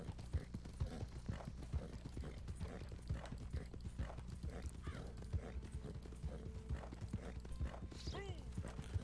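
A Turkoman horse in Red Dead Online trots with a steady, rapid clip-clop of hooves throughout, close and prominent, with a brief soft whinny-like sound near the end.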